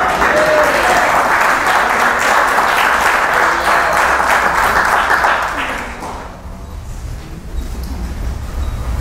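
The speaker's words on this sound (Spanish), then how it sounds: "Denle un aplauso al Señor." Church congregation applauding during a pastor's convention service in Santiago, Chile: dense, loud sustained clapping from a large crowd for about six seconds, then fading into quieter room noise with murmuring.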